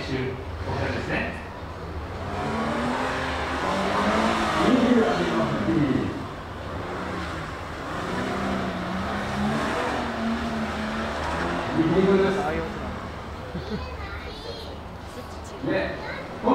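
Drift demonstration at the Tokyo Motor Fest: a low-power, inexpensive car drifting through a wetted section, with tire squeal and engine revving under a continuous announcer's commentary and crowd noise.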